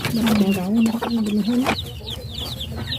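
A mother hen clucks close by, with soft throaty calls and brief higher chirps over a constant farmyard background.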